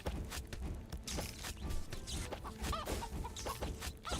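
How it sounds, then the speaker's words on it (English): Clucking from a chicken in the tower-defense game Cursed Treasure 2, a few short cackling calls mixed into busy, constant game effects and background music, fairly quiet overall. "Chicken,"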